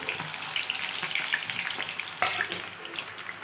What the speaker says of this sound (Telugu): తర్వాత ఆనియన్స్ వేపేసుకుందాం.